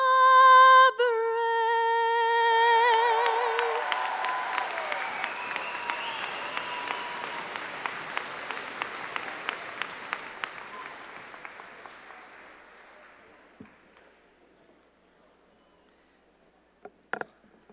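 Loud applause from a commencement audience at an Ithaca College graduate hooding ceremony, rising as the final sung notes of the national anthem fade out, then slowly thinning to scattered claps over roughly twelve seconds.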